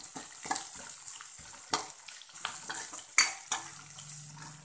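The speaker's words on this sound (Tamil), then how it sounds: "வெங்காயம் வந்து நல்லா வதங்கணும்" A spoon clatters and scrapes in a pan as onions and dried chillies fry, with a busy run of metallic knocks and a soft sizzle, close and without talk.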